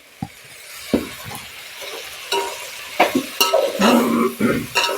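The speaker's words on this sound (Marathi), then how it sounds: "ते हलवून घ्या व्यवस्थित" Mixed vegetable curry with chilli powder is stirred in a pot, with scattered spoon knocks and clinks over a soft sizzle, growing busier and louder toward the end.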